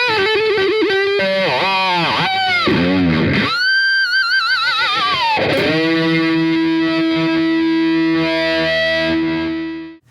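A heavily distorted electric guitar plays a fast, melodic lead with rapid picked runs and bends, recorded with a pick mic, loud and sustained, ending with a ringing held chord.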